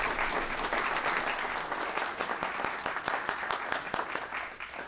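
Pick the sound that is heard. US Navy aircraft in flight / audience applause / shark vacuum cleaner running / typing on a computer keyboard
audience applause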